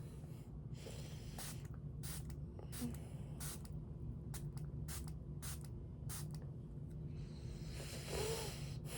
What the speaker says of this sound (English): It's this Makeup Revolution Glow Setting Spray.